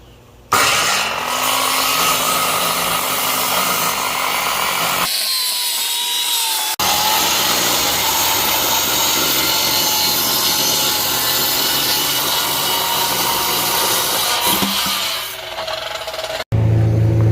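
A loud circular saw whines and roars as it rips wood boards in one long cut, pauses briefly, then carries on into a second long cut.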